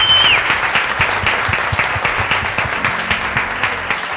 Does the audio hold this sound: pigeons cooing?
no